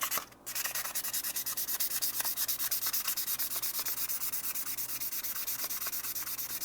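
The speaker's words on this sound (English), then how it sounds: "So take your sandpaper like so." Sandpaper rubs rapidly back and forth over the glossy plastic of an NES controller shell, a close, fast and even rhythmic scratching that keeps going throughout after a brief pause at the start, with no speech.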